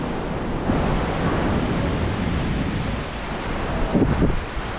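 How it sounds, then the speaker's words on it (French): Big surf rolls in steadily at Los Cerritos surfers' beach, a continuous broadband wash of breaking ocean waves with a heavier crash near the end, loud and close with no voices. "il y a des big vagues quand même, regardez-moi ça"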